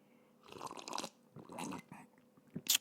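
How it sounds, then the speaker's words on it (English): A person slurps coffee up close in a few noisy, wet bursts separated by short pauses, ending with a sharper hiss-like slurp. No one speaks. "I'm slurping"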